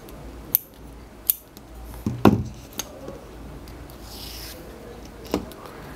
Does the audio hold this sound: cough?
no